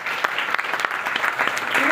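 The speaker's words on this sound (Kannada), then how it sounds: "ಚಪ್ಪಾಳೆ ಕೊಟ್ಬಿಡೋಣ" Audience applause from a seated crowd, a dense even patter of many hands filling the whole stretch, with some voices mixed in underneath.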